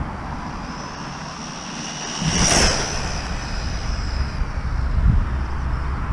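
A Wltoys 144001 RC truggy races outdoors at speed, its electric motor whining loudly as it sweeps past close by around the midpoint and then carries on with a steady high drone.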